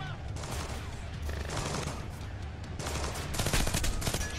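Submachine gun fire in Splinter Cell Blacklist at an abandoned mill, heard as a continuous dense barrage of rapid shots amid loud game noise, growing heavier toward the end.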